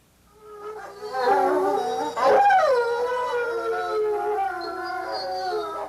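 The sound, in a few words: timber wolf howling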